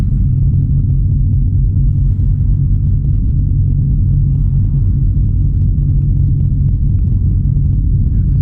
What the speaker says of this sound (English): Yeah, that's my cousin's truck.